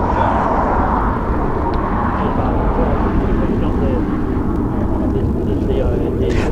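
A Eurofighter Typhoon jet flies over during an RAF Waddington exercise, a broad steady roar of engine noise holding loud throughout without letup, with voices faintly mixed in.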